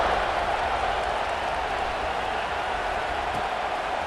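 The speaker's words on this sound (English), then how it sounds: "this crowd is buzzing after that last score" A stadium crowd at a football game cheers after a score, a dense, steady roar of voices and applause filling the whole stretch at an even level.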